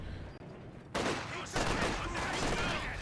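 A DShK heavy machine gun in Company of Heroes 2 opens up after a quiet start, firing sustained loud bursts of rapid shots that keep rattling to the end of the clip.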